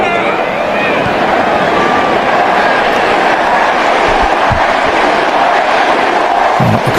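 A large football stadium crowd roars and murmurs at a World Cup match between Argentina and Austria, a loud, dense, continuous wash of noise throughout, with a commentator's voice faintly audible beneath it.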